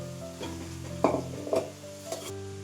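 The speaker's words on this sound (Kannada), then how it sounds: "ಫ್ರೈ ಆಗಿದೆ ಇದಕ್ಕೆ ನಾನು ರೈಸ್ ಸೇರಿಸ್ಕೊತೀನಿ" A spoon stirring rice into a fried mixture in a pan, soft scraping strokes and a few clinks over a faint steady sizzle and background hum.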